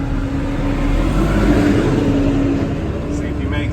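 A car engine is being blown while the car smokes, revving hard with a continuous rough, strained roar up close, swelling slightly through the middle.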